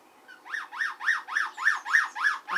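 A starling imitating a police siren repeats about eight times in a steady rising-falling wail, clear and fairly close with no talk.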